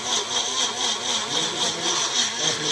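Mixer grinder whirring steadily as aloe vera is blended into juice, a continuous motor drone with a bright high whine and slight pulsing, fairly close and alone.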